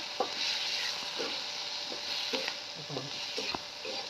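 Fenugreek leaves stirred and sautéed in a pan over a wood-fired chulha stove, with a steady broadband sizzle broken by repeated short scraping stirs.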